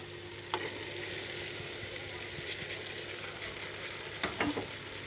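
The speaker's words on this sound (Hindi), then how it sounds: "थोड़ी देर दाल की भुनाई करूँगी" Lentils and spices frying in a pan for a gourd dal: a constant loud sizzle close by, with a few scraping stir strokes and light clinks of a spoon against the pan.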